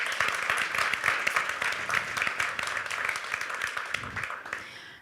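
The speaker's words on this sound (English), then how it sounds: "So please give her a round of applause." An audience at a gathering on Marikana gives a speaker a round of applause, dense clapping from many hands held steady, then thinning and fading out near the end.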